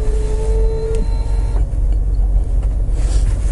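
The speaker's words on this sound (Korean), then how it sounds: "실내로 강력한 엔진음이 먼저 전달되죠" A Cadillac Escalade large SUV engine starts, heard from inside the cabin: a short electronic tone, then a deep, loud, steady rumble that settles into idle.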